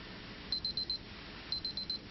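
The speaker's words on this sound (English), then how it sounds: "My timer goes off" A timer goes off with two bursts of four quick high beeps each, spaced about a second apart, faint over quiet background with no talking.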